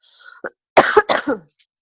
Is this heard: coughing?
yes